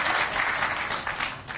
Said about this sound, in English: well deserving of applause